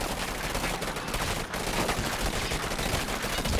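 Sustained rifle gunfire from Command and Conquer, a dense continuous volley of rapid shots filling the scene at steady loudness with only a brief dip midway.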